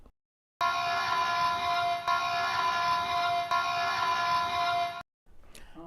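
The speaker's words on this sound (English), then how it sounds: "that was the town of Kerrville awoken by flood sirens and alerts in the middle of the night" A loud, steady blaring flood warning siren with a harmonic tone holds for several seconds, then cuts off abruptly, followed by a softer noise, at night in Kerrville, Texas.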